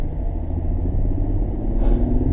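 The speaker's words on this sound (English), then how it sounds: "V6 engine, 308 horsepower, 275 pound-feet of torque" A 2018 Chevrolet Colorado ZR2 pickup with a 308-horsepower V6 engine runs with a steady, deep rumble, close and continuous, and no voices.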